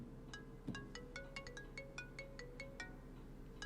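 Mobile phone ringtone rings out in a repeating pattern of bright electronic tones about every fifth of a second, steady at moderate level over a low background hum, with a brief thump early on and no talking.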